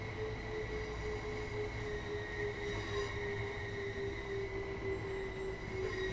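A train coasting and slowing into Brighton in Train Sim World, with a steady rumble of wheels on rail and sustained tonal hums from the traction motors, heard alone without talk.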